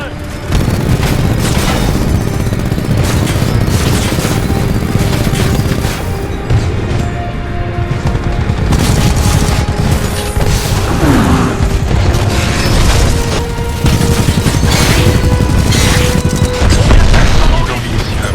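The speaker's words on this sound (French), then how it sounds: "Noyau de rafale activé." A salvo core missile barrage from a Titan in Titanfall 2 unleashes a long, dense stream of rapid booms and blasts, loud and relentless throughout, with combat noise layered over it.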